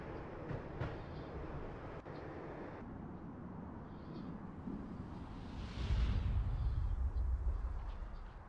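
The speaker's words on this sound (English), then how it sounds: "When the train he was riding slowed down" A train rumbles along its tracks in the Max Payne video game, a steady dark mechanical roar that swells louder and heavier partway through as the train slows, with no voices.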